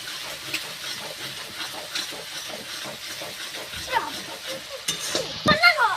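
Spices sizzle and fry in hot oil with Kashmiri red chilli for a Bengali rohu fish curry, stirred steadily with a spatula scraping the pan, close and moderately loud, with a few sharper clinks near the end.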